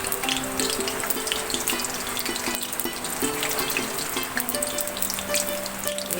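Malabar spinach pakoras sizzle in hot oil, a continuous crackling hiss with bright spitting bursts as the battered pieces fry, steady and close, with no voices.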